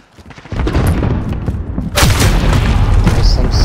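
Loud, booming gunfire fills a Call of Duty: Modern Warfare match, with a heavy sniper-style blast after a short quiet start and a second harder crack midway, followed by a sustained rumbling roar.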